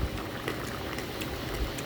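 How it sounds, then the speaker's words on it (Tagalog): Cassava leaves simmering in coconut milk bubble at a steady boil in a cooking pot, giving a continuous close, soft bubbling and popping with no voices. "Ganyan, kumukulo na siya guys."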